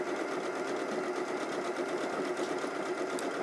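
An Elna sewing machine stitches with its thread tension set to maximum, a steady, close, continuous mechanical whirr with a rapid regular beat throughout.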